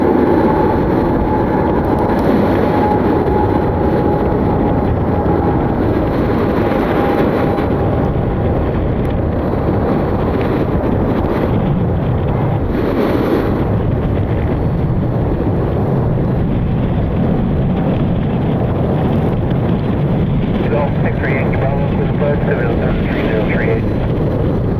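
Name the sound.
airplane departing, plane spotting in snow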